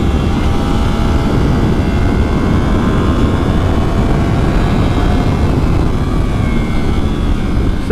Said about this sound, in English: I love the sound of this freaking engine.